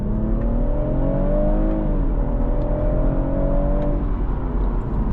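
A BMW M140i accelerating on the road, its engine note rising and holding in a steady drone with smooth pitch changes, heard from inside the car without any talking.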